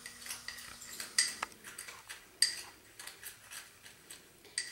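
A spoon stirs a teaspoon of ground cinnamon into granulated sugar, giving a run of light, close clinks and scrapes against the bowl, with a few sharper taps standing out over about five seconds.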